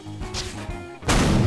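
A bomb detonates in Garry's Mod after a second of quiet game ambience and soft thuds, erupting into a sudden loud, sustained explosive roar that fills the rest of the moment.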